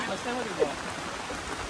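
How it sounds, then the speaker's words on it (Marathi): Monsoon rain pouring at a hillside temple compound in Khopoli, a steady hiss of falling water with a person speaking briefly over it. "हे बघा पाऊस बघा किती पडतोय"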